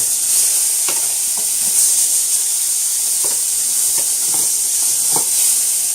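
Chicken pieces drop onto a hot pan with a loud, steady hissing sizzle, broken by a few soft taps and clicks.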